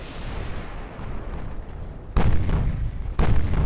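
Two heavy booming impacts from torpedoes striking battleships in the naval warfare game Ultimate Admiral: Dreadnoughts, each a sudden loud broadband burst over a steady rumble of distant battle noise, no talking.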